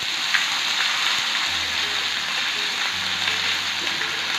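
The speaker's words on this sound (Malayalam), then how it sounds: "കറിവേപ്പില ഒന്ന് ഫ്രൈ ആയി വരുമ്പോഴേക്കും നമ്മൾ എടുത്തു വെച്ചിരുന്ന ജിഞ്ചർ ഗാർലിക് പേസ്റ്റും അതിൽ പച്ചമുളക് ഇട്ട് ജിഞ്ചർ ഗാർലിക് പേസ്റ്റ് അരച്ച് വെച്ചിരുന്നത് അതേ എണ്ണയിലേക്ക് ഇട്ട് കൊടുക്കുകയാണ്" Ginger garlic paste and green chillies frying in oil with curry leaves, giving a dense, close sizzle like steady rain with small pops scattered through it, alone without speech.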